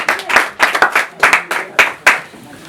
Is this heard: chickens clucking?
no